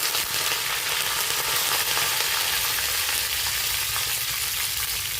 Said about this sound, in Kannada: ಸಾಸಿವೆಗೆ ಚಟಪಟ ಅಂತ ಇದೆ